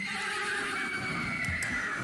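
A horse neighs loudly as a sound effect during a Curse of Strahd tabletop game session, one drawn-out whinny over a low, steady background.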